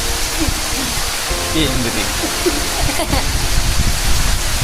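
Heavy morning rain in a Ratnagiri village, a dense steady wash of falling water close by, with a few faint background tones and thuds mixed in.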